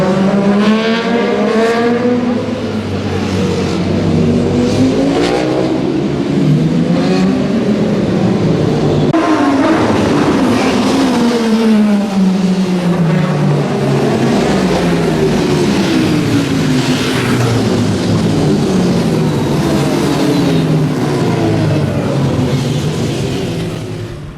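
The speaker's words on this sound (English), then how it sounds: "Motorbike" Loud motorbike engines roar and whine continuously on a ride at Arthurs Pass, New Zealand, pitch rising and falling as bikes rev, shift gears and pass close by.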